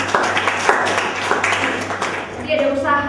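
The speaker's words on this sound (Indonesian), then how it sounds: "Oke, tepuk tangan buat Ari." A group claps for Ari at a youth mentoring and coaching session, a brief burst of close applause layered under and between a speaking voice.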